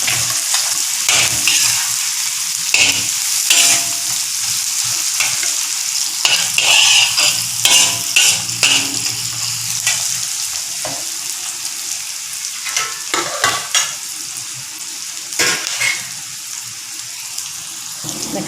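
Ginger and garlic fry in a hot pan for mutton varuval while being stirred, giving a steady close sizzle broken by scraping stirs and occasional louder crackles, with no talking.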